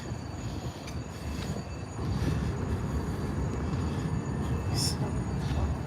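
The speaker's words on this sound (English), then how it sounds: "There's that stop train that you love or you hate." A train passes a stop on a San Diego convention campus, giving a steady rumble with clanks and a short high squeal, heard fairly close amid outdoor crowd ambience.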